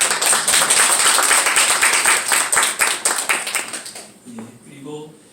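A church congregation applauds visiting elders, dense indoor clapping from many hands that fades after about four seconds, followed by a voice speaking.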